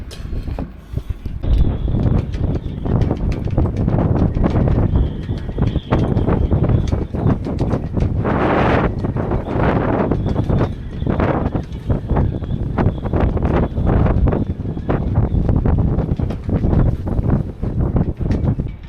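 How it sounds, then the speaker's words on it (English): Strong wind buffets the microphone continuously, a loud rumbling roar with gusty surges throughout. "It's really windy. The wind is making it a lot colder actually"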